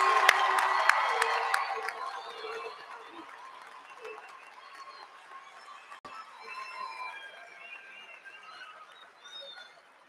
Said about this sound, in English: please join me in a final round of applause to congratulate our outstanding graduates